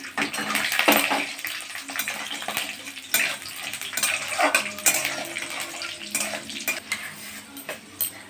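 Cashews and raisins frying in white oil, a steady low crackle of frying with scraping and clinking of a utensil stirring in the pan, up close with no talk.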